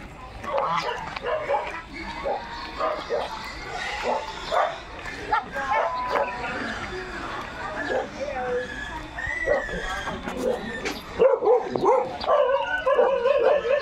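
Dogs in a rural outdoor setting in Nueva Ecija yipping, barking and whimpering in frequent short bursts, nearby and mixed with people talking and greeting them throughout.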